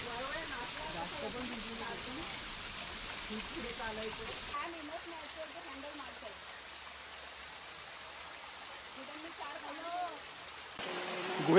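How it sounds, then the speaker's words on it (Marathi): A small waterfall near a riverside ashram in Khopoli flows with a steady watery rush, while voices murmur over it in the first half before it continues alone, fairly faint. "आम्ही सुद्धा एक छोटासा धबधबा शोधूनच काढला."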